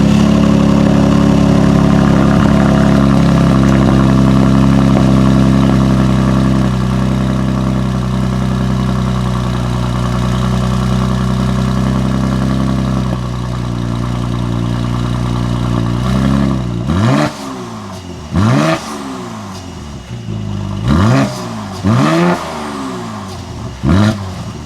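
A 2020 Mercedes-AMG GLC 43 idles with a loud, steady engine and exhaust drone for about sixteen seconds, then fires off a run of sharp revs that rise and fall again and again.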